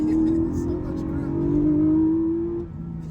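Porsche 718 Boxster GTS 4.0 powering through a turn on a drive, a loud, near engine drone holding steady then easing off, with someone talking over it.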